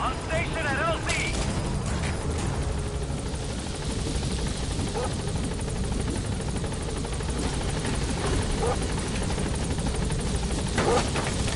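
A helicopter in the Metal Gear video game arrives at a landing zone, its dense rotor thrum and engine roar filling the scene loudly and continuously, with scattered gunfire-like bursts and voice chatter underneath.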